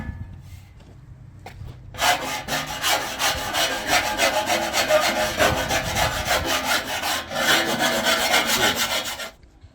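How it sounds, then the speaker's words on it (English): Hand files rasping steadily at a stock steel bumper opening on an FZJ80 Land Cruiser, shaving it to fit a winch fairlead; dense, continuous scraping strokes start after a quiet moment and carry on close and loud before stopping abruptly. "Using some files, I was able to shave this pretty good, and it'll fit like so."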